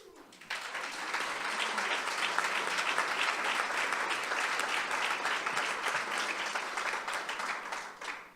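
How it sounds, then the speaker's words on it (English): A large audience at a candidates forum bursts into applause after a short pause, steady dense clapping from many people that holds for several seconds before dropping off. "I'm going to ask you to hold your applause now until the end of the evening"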